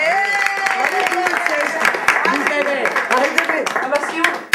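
A small group clapping after singing happy birthday, a few seconds of close, lively clapping mixed with loud voices and cheering from people talking and calling out.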